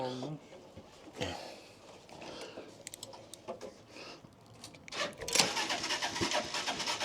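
A Bolat FM 25 motor runs during a repair on its pump, giving a rough, steady engine drone with clattering knocks and metallic clicks close by, and voices talking faintly underneath.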